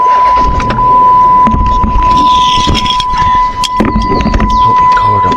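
A car drives slowly on public land in Alabama while looking for parking, engine and road noise loud and close throughout, with someone talking over it.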